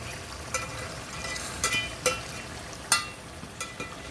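Fish sizzles steadily in a pan while Kadapa-style fish biryani is prepared, with a few sharp spatula clicks scattered through the continuous frying hiss.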